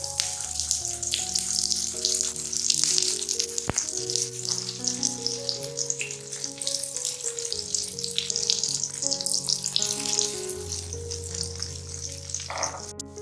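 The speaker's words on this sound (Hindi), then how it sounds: "सबसे पहले शामी को हल्की आंच पर फ्राई कर लें।" Chicken shami kebabs fry in oil on a tawa over low heat, a continuous close crackling sizzle with scattered pops and a faint low hum beneath, and no one speaking.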